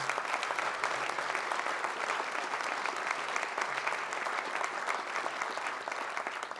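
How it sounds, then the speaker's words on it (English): Audience at a city address giving sustained, loud applause for county freeholders, a steady thick wash of clapping from many hands throughout. "Would you please give them a round of applause?"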